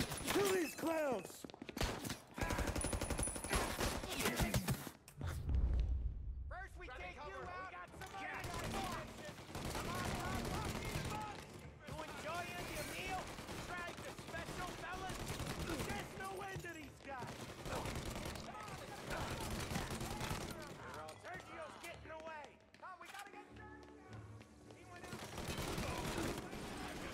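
Video game gunfire in Mafia: Definitive Edition, with dense bursts of shots and fusillades through most of the stretch, heard under someone talking and game dialogue.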